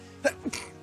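A single close, short sneeze bursts out, with a quick catch of breath just before it, indoors.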